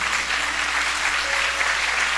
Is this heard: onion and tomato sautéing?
no